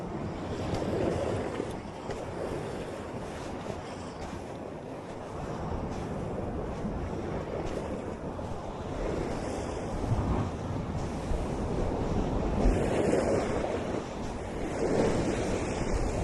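Ocean waves wash against a rocky shore in Okinawa, a continuous rumbling surf with gentle swells rising every few seconds, mixed with wind buffeting the microphone.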